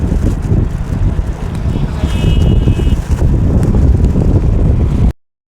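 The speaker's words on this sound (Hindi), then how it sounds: "तेज हवा चल रही है" Strong wind buffets the microphone with a constant heavy rumble and roar, loud and close throughout, cutting off abruptly near the end.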